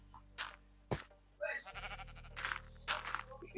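Several short sheep bleats from a Minecraft survival game, spaced across a few seconds, loud and close with game sounds and a faint murmur between them.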